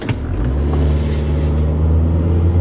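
A car engine hums at a low, steady idle-like rumble, close by, with no speech.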